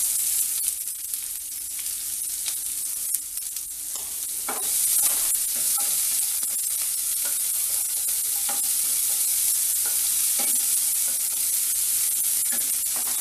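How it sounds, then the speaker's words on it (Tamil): Chopped onions sauté in hot oil for wheat rava upma, a constant close sizzle broken by repeated scraping stirs of a spatula against the pan, with no voices. "வெங்காயம் மட்டும் கொஞ்சம் பச்சை வாடை போகிற வரைக்கும் நல்லா வதக்கிக்கோங்க."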